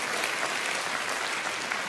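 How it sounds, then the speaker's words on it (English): A church congregation claps during a sermon by a pastor, an even wash of applause that stays loud and constant for a couple of seconds, with no voices over it. "You can go ahead and clap for that."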